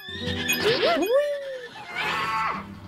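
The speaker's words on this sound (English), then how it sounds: "Hello, horse." Horse whinnying in the Princess Peach Showtime video game, a loud drawn-out neigh with rising and falling pitch followed by a second shorter whinny over a busy game soundtrack.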